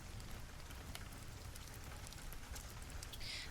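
Steady rain falls throughout, an even close hiss of drops on a surface with no breaks, soft and continuous behind a quiet bedtime story.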